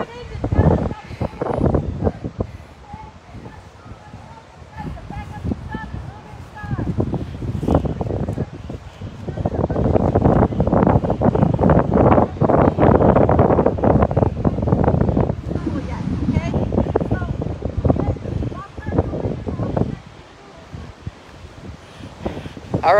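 Strong gusts buffet the microphone at an outdoor wildflower festival in the Coachella Valley, a rough, loud roar that swells and ebbs in long surges, with people talking underneath.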